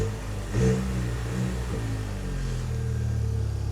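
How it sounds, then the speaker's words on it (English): A car engine revs briefly at close range, rising from a steady low idle into a short burst and settling back into a continuous rumble, with a light rattle in the mix, during pre-smog checks. "I'll give her a quick rev."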